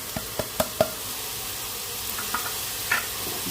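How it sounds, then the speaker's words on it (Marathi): Hing, turmeric, garam masala and Malvani masala sauté with a paste in hot oil, giving a steady sizzle with a few sharp spoon knocks against the pan. "हिंग हळद गरम मसाला आणि मालवणी मसाला हे सर्व घालून घेऊया"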